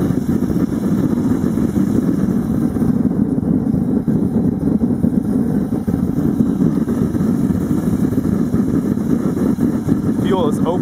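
An atomizer waste-oil burner runs with its lid on and the fuel valve fully open, giving a steady, loud, even roar without pause.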